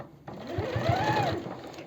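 A sewing machine running a short burst of stitching along the edge of a jeans pocket piece, a close, steady whir that starts abruptly and continues to the end.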